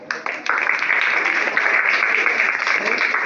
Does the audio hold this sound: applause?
yes